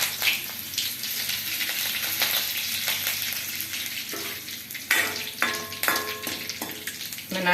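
Curry leaves hit hot sesame oil after mustard seeds have popped, a close, bright sizzle and crackle that flares sharply several times toward the end, with occasional stirring scrapes and no voices.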